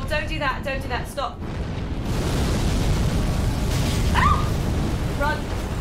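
The Ancient Wyvern in Dark Souls 3 unleashes a long, roaring blast of fire breath, a loud sustained rush that swells and holds, while a voice shouts over the start.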